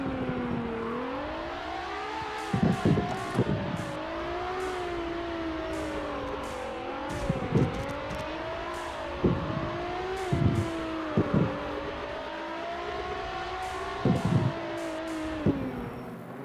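Lamborghini engine in the CarX Drift racing game, a steady droning car note that rises and falls as it revs and shifts, with repeated short sharp clatters and bursts over the continuous hum.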